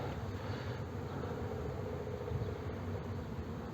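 Honey bees hum in a dense, steady buzz around an opened hive during a colony inspection after honey extraction, close and continuous with no talking.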